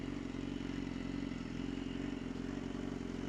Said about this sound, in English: Hopefully the bike runs true and straight and feels good.